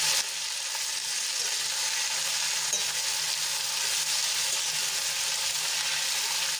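Radish greens being stirred and fried in oil give a steady, bright sizzle with faint scraping of the stirring, continuous and close, with no talking.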